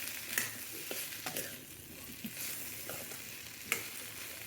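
Tender okra fries and sizzles steadily in a pan while a utensil stirs it, with occasional light scrapes and taps over the continuous soft crackle.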